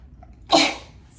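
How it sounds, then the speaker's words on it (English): A single sharp human sneeze bursts out suddenly, close and loud, then fades over a fraction of a second amid a quiet room. "I'm about to sneeze."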